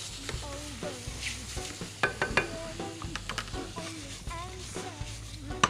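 Shrimp frying in butter with chorizo in a pan, a steady sizzle broken by sharp scrapes and clinks of a utensil stirring against the pan, with some talking over it.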